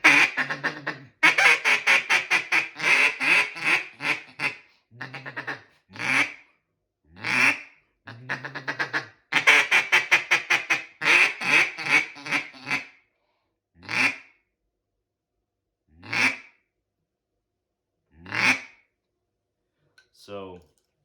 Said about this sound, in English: So kind of combination I use is a couple quacks, going to feeder, hail call, couple quacks, then feeder.